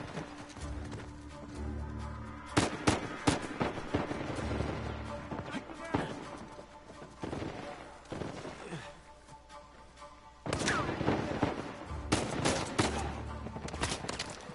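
Repeated shotgun blasts from enemies in riot gear in Uncharted 4: A Thief's End, heavy bursts scattered through a chaotic firefight with other shots and movement noise in between.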